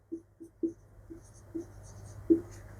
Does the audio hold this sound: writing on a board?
yes